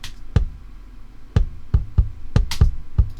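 Logic Pro Drummer kick drum pattern playing alone, a sparse run of about seven deep, punchy thumps at an uneven groove, close and clear with no voices.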